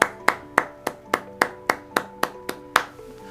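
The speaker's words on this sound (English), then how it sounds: "Applause." Applause for the winner of a live magazine cover photo challenge: about ten sharp, evenly spaced claps in a quick steady rhythm, close and clear over a faint steady tonal hum.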